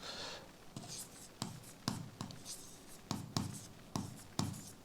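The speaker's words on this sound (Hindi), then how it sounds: "यहां पे लिख रहा हूं मैं" Marker or chalk writing on a classroom board during an optics lesson: a run of sharp scratchy strokes, about eight distinct bursts in a steady rhythm, close and clear with no talking.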